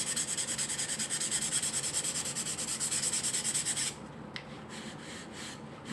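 Wood being hand-sanded with 220-grit sandpaper, a steady rhythmic back-and-forth rasping close to the microphone, fast and even, then easing into lighter, softer strokes near the end.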